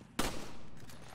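Gunfire in the video game Resident Evil 5, a single sharp loud shot followed by a fading echo and a couple of softer bursts.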